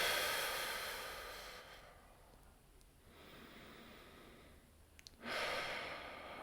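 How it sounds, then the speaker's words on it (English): A single deep breath drawn slowly in and let out, soft and close, in a quiet room before a calm guided mindfulness session resumes. "Take a deep breath."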